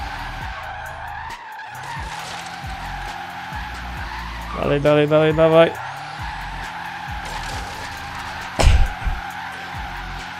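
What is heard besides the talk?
Tesla car drifting with tire skids in video game Forza Horizon 3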